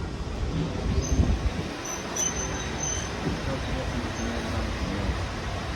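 Train rolling on rails, a steady rumbling ride with wheel and track noise and a few high squeals, heard from on board the Flying Scotsman steam locomotive train.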